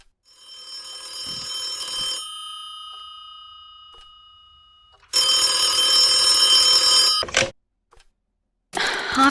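Telephone ringing in The Occupation video game: repeated bell-like rings in separate bursts, loud and close, with gaps of silence between them and no talking.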